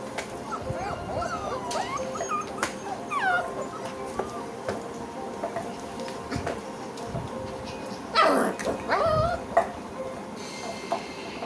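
Several puppies whimper, yip and bark in a room, with high wavering whines running throughout and a louder burst of yelping near the end, over a steady low background hum.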